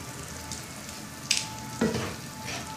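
Garlic and harissa sizzle softly in a pan as they are stirred, with a couple of brief scraping strokes of a utensil over the steady frying hiss.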